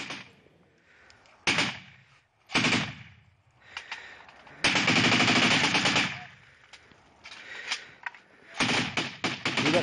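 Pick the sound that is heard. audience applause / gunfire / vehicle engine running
gunfire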